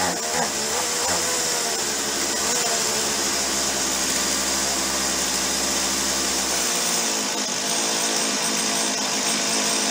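An old Stihl 018c chainsaw runs up close with a loud, buzzing two-stroke whine, holding steady for several seconds before its low rumble drops away near the end.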